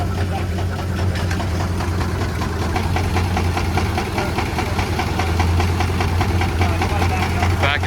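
A 1910 antique tractor engine idles at the Jacktown Antique Gas Engine and Tractor Show in Bangor, PA, chugging in a loud, close, steady rhythmic beat over faint outdoor background noise.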